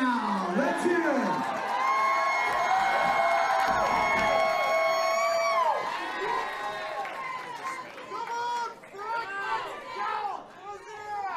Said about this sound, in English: there's an awful lot of people in the crowd with some crazy advice for these fighters